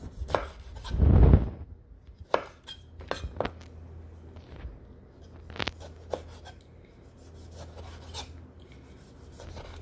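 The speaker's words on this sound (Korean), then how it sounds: "방울토마토를 이렇게 살살 점이듯이 이렇게 예쁘게 예쁘게 잘라주세요" A knife slicing cherry tomatoes on a cutting board, a sharp heavy cut near the start followed by scattered crisp taps and scraping rubs, close and alone.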